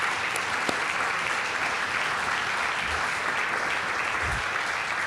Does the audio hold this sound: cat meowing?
no